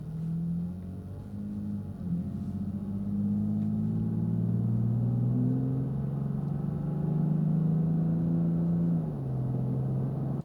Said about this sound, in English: so we've got our MagnaFlow exhaust installed with the kind of mild setting on the resonator